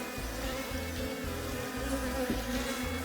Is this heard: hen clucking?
no